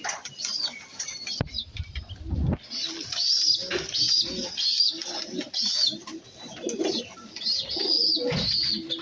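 A flock of pigeons feeding nearby, with soft cooing, a sudden flurry of flapping wings and light pattering among steady high background noise.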